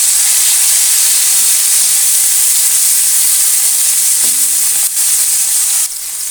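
Ginger, garlic, onion and tomato sautéing in hot oil in a pan, a loud, close, unbroken sizzle and hiss with a couple of faint scraping knocks, no talking.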